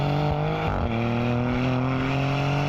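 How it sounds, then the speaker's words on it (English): Loud, close exhaust of a 2025 Maserati GranTurismo driving on the road, a sustained engine drone that dips briefly as if shifting, then pulls on steadily, with no voices. "And now you're going to listen to it on the road."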